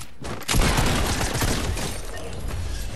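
Dense gunfire in a Fortnite Battle Royale match, a sudden loud burst of rapid overlapping shots that keeps rattling on with crackling impacts, close and continuous without speech.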